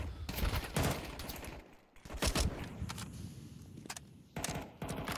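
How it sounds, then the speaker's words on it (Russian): A shootout in a competitive esports video game match: several bursts of rapid gunfire separated by brief lulls, moderately loud and punchy. "а здесь перестрелка прокола с Евгениусом"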